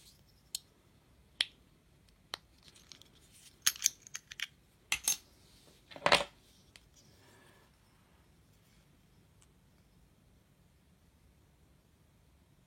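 Counterfeit wristwatch case being pried open: a handful of sharp, close metallic clicks and snaps, the loudest clustered in the middle, then a long quiet stretch of faint room noise.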